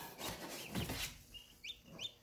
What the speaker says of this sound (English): I heard some chirping.